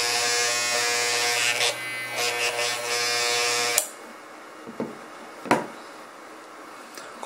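A Wahl Home Pro Basic hair clipper buzzes steadily and loudly for almost four seconds with a strong harmonic hum, then cuts off, leaving a quiet room with a few faint clicks and knocks.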